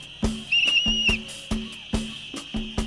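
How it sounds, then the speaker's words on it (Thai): Whistles shrill at a street rally stage, one long trilling blast over a steady whistle tone, with sharp rhythmic clacks repeating throughout. "ช่วยกันเป่านกหวีด"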